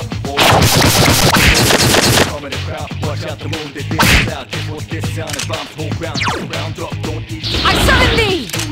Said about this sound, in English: Let us commence with an all-out attack!